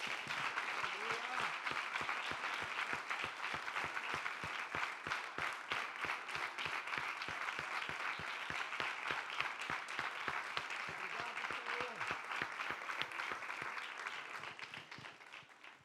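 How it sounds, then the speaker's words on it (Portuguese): Church congregation clapping loudly and steadily throughout, a dense wash of applause with some voices mixed in. "Vamos aplaudir forte a presença de Deus."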